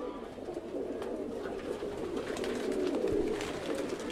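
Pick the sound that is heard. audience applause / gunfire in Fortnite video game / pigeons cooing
pigeons cooing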